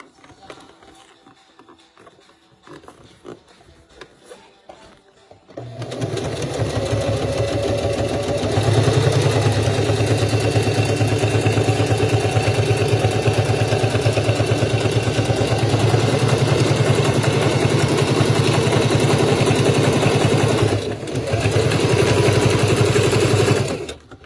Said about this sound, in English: when I'm stitching, I don't really have to move them like that